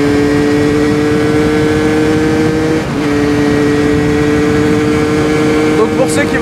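A motorcycle engine drones steadily close by during clutchless gear shifts. There is a brief dip and recovery partway through, and someone talks over it.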